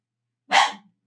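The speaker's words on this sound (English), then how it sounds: "Nope, he's not done barking." A single loud, close dog bark, one sharp burst that trails off quickly into silence.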